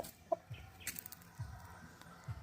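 A sweater gamefowl broodstag makes soft, low clucks in a few short bursts, close but faint, with a brief higher call near the start.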